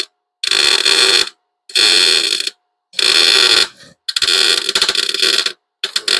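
A welding torch lays a bead on a patch panel over a dirty, unclean spot on a car body. It gives loud, close buzzing crackles in bursts of about a second each, separated by short silences.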